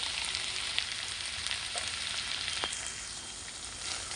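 Spices sautéing in hot oil for a drumstick (moringa pod) dish, giving a steady close sizzle and frying crackle throughout, with a few faint scrapes of stirring and no talk.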